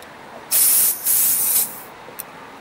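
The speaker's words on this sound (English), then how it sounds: "get compressed air, a can of brake clean" An aerosol can of brake cleaner sprays on a Toro Personal Pace lawn mower in two loud, close hissing bursts, followed by a faint short puff.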